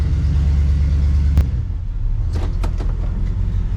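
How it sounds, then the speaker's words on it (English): An old car engine in a garage turns over with a loud, steady low rumble that stays close and constant, with a brief sharp click partway through and a few faint knocks near the end. "as you can see, the engine's turning over."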